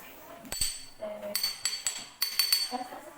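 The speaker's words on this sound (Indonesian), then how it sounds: "Coba sekarang botol ini akan menggunakan botol kaca." A glass bottle is struck repeatedly with bright, ringing clinks, several quick hits in uneven bursts, close and clear, with brief talk at the start and end.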